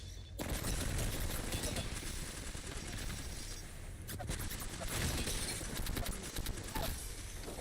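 Gunfire in the video game Apex Legends comes as dense, rapid, loud bursts of automatic shots with crackling impacts, continuing almost without a break through the whole stretch.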